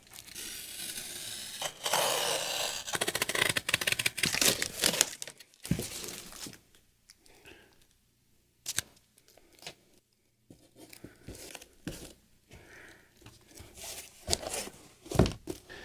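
Cardboard being cut and crunched by hand around the edge of a painting while packing it for shipping, with bursts of crinkling, crushing and snipping, loud at first, then sparser, separate cuts and scrapes close by.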